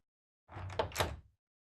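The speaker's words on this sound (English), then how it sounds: "I close the door." A door swinging shut, a single short close-miked thud and rattle lasting under a second, alone against silence.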